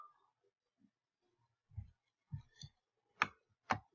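A computer mouse clicks several times in quiet surroundings, sharp isolated clicks spaced irregularly and growing louder toward the end, with no talking.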